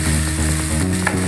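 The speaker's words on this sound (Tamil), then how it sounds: "ஒரு பேனில் ஆயில் சூடானதுக்கப்புறம் இந்த மேரினேட் பண்ணி வச்சுருக்கிற ஃப்ரைடு மோமோஸை நல்லா டீப் ஃப்ரை பண்ணிக்கிறோம்" Marinated momos for tandoori momos deep-fry in hot oil in a pan, giving a loud, steady, dense sizzle with bubbling crackle throughout.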